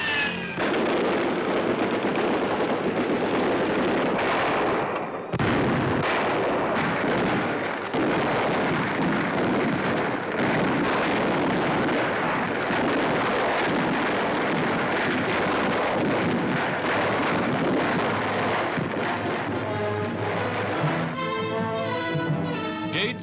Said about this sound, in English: General Clark watches while his men clean up with gunfire and mortar.